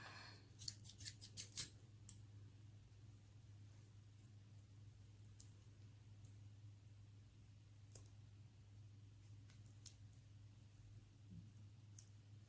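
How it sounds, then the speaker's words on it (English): Scissors snip through crochet yarn in a few quick, close clicks near the start, then the rest stays quiet apart from faint scattered handling ticks over a steady low hum. "so I'm gonna cut the yarn."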